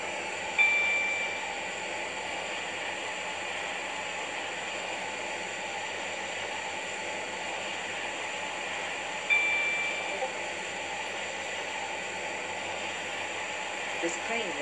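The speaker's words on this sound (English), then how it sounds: "This is a connect train to Morganstown." A connect train in the Roblox railway game Stepford County Railway rolls along with a steady, loud rushing hum, marked by two brief higher tones, and no talking.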